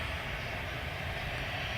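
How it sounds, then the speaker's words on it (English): A fixed-wing airliner's engines roar near an airport as it prepares to take off, a loud, steady broadband rumble filling the whole short stretch with no voices over it. "I'll just stay here, at least until this plane takes off"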